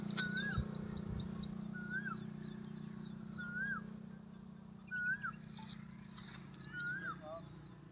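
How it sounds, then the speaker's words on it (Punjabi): A koel calls in a village garden among other birdsong, giving five evenly spaced rising notes over a low steady hum, with fainter high chirps and a soft voice in the background. "ਕੋਇਲ, ਕੋਇਲ ਦੀ ਆਵਾਜ਼ ਆਉਂਦੀ ਆ,"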